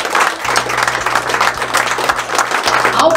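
Sustained crowd applause fills a tournament opening ceremony hall, steady and loud throughout, with a low amplified hum running beneath the clapping.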